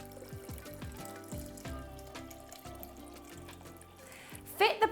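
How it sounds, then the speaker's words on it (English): Water pours and trickles into a cafetière, with a rising gurgle, and a soft voice is faintly present underneath. "fill the cafetière to the desired level according to how many cups you want"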